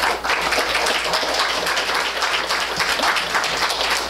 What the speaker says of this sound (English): For future reference, we prefer less applause to give them the opportunity to speak